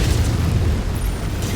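A heavy missile explosion in a MechWarrior game, a deep, loud rumbling boom that fills the whole moment with sustained low roar and no speech.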